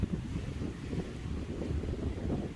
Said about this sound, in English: it is very windy today. 50-mile-an-hour winds